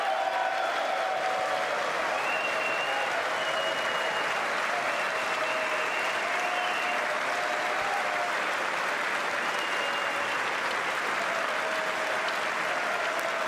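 Long, steady applause fills a large chamber during the State of the Union address, a dense even roar of many clapping hands that holds at a constant level throughout, with faint tonal sounds riding above it.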